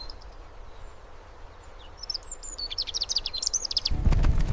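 Small birds chirp and trill in the Himalaya, a run of bright, quick calls building over quiet background, ending with a sudden low rumble.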